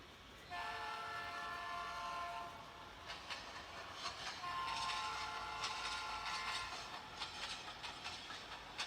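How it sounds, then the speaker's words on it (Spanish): Train horn sounding a long steady blast, followed by rhythmic clickety-clack of wheels over rail joints as the train rolls past, moderately distant and fairly faint. "Y escuchamos cómo suena el tren."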